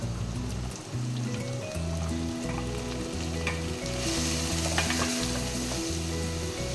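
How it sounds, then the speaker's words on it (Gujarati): Chopped onions sauté in a hot pan of oil for paneer bhurji, a steady close sizzle with occasional stirring scrapes, continuous throughout with no talk, over a faint musical background. "આપણે ડુંગળીને એકદમ સરસ રીતે સાતળી લેવાની છે"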